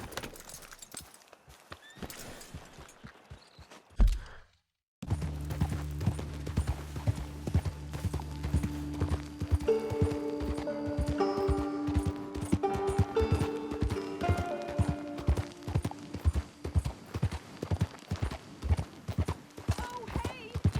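Rhythmic clip-clop of horse hooves at a steady trot in the video game Red Dead Redemption 2, close and clear, with a brief silence and then ongoing hoofbeats over a low musical drone.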